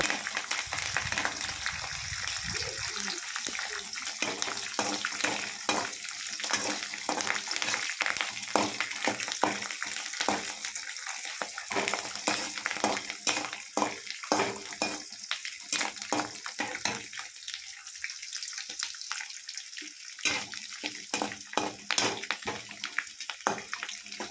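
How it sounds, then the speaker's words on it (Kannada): Curry leaves and green chillies fry in oil in a pan for a mango chitranna, giving a steady, close, crackling sizzle with dense spitting pops throughout and no voices. "ಹಸಿಮೆಣ್ಸಿನ್ಕಾಯಿ ಎಲ್ಲ ಚೆನ್ನಾಗಿ ಫ್ರೈ ಆಗಿದೆ"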